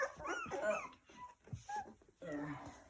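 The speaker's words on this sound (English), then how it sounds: "that's it from Clemmie's puppies at 3 weeks age" Three-week-old puppies of a mother dog named Clemmie whimper and yip in short, close, high bursts, with people talking softly among them.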